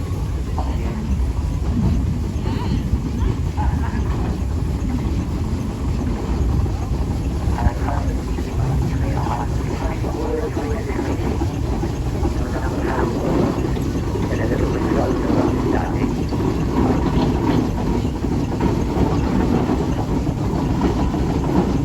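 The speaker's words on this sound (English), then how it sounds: "I think this is now the last full-size engine that's coming in, the Brown and May engine from the John Rundle stable." A Brown and May steam traction engine rolls into a hot steam rally parade, a steady broadband rumble and clatter of machinery holding constant and close throughout, with faint background activity.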